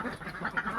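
Ducks quacking close by in a short, continuous burst of overlapping nasal calls from a small domestic flock kept for eggs.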